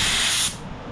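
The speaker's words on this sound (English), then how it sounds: "Blow out any debris left in there." Compressed air blasts debris out of the drive housing on a Toro 22-inch Recycler mower, model 20017, a loud, steady hiss close by that cuts off about halfway, leaving quieter background.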